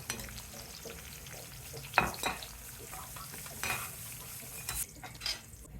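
Cashews and curry leaves frying in a pan on a stove, a steady soft sizzle with intermittent stirring scrapes and clinks of a utensil against the pan, fairly close and quiet.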